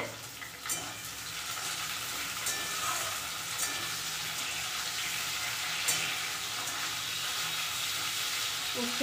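Bitter gourd fries in a pan with a steady, even sizzle and occasional soft pops and stirring scrapes, close and fairly quiet throughout.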